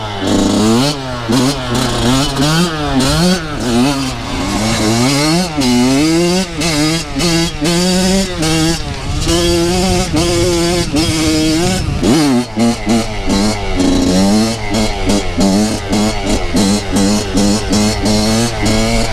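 A Kawasaki KX100 dirt bike engine revs hard and close, its loud buzzing note rising and falling repeatedly in pitch as the throttle is worked while riding, with a brief dip near the middle.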